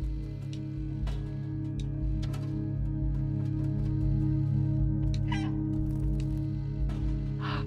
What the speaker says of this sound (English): it kind of shows you where to go if you meow